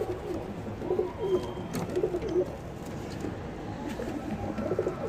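Pigeons cooing in a loft among a pair of slate-colored birds, soft repeated low coos over a steady background hum, fairly close with no talk.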